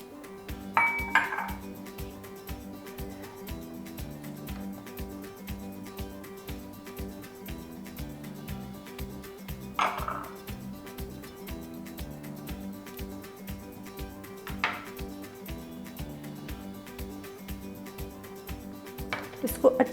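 A utensil stirs boneless chicken marinade with spices, lemon juice and paste in a bowl, giving occasional light clinks against the dish over a soft, steady background with faint talk.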